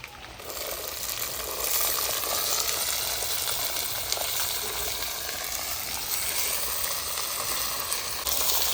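Shallots fry in sesame oil with fennel seeds and curry leaves in an outdoor pan, making a steady, close, hissing sizzle that stays dense and even throughout.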